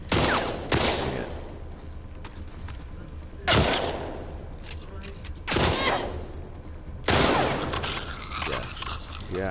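Gunfire in The Last of Us Part II, four loud sharp shots spaced a few seconds apart, each with a ringing tail, over a continuous game background.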